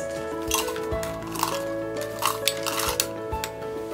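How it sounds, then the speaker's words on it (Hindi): Fried red chilies tipped into a metal mixer jar in a home kitchen, giving a scattered handful of light clinks and soft taps over a steady low background hum. "मिक्सर जार में डालेंगे ये फ्राइड रेड चिलीज"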